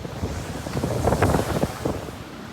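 Hurricane Ian winds buffeting a home in Cape Coral, Florida, a brief close, steady roar of wind with a slight swell in the middle.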